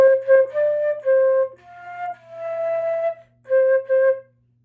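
A flute plays the opening notes of Happy Birthday, clear sustained tones moving through a short melodic phrase with brief gaps between notes, close and solo over a faint background hum.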